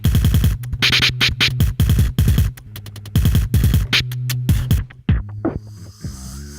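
Loop station beat scattering effect, fourth variation: a looped electronic beat repeatedly sliced and stuttered, steady thumping bass pulses broken by abrupt cuts and noisy bursts, ending in scattered fragments that thin out and decay.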